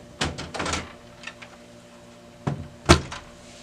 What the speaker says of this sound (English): you're going to push this little green tab over so that you can remove the drum drawer completely